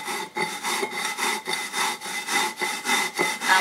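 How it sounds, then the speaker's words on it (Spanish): Coarse salt is ground on a stone metate with a steady back-and-forth rhythm, roughly three gritty scraping strokes per second, loud and close with no talking. "Primero vamos a moler la sal en grano."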